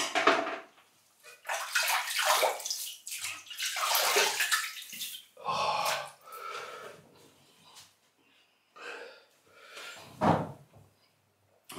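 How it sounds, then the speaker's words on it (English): Tap water runs in bursts while a face is wetted before lathering for a wet shave, with splashing and brief pauses, fairly close and alone without talk. "let's wet the face and get lathering up"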